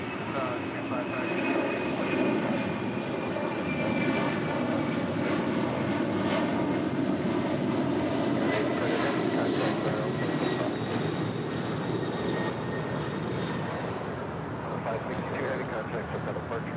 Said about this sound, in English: SAS, the A350 coming in from Copenhagen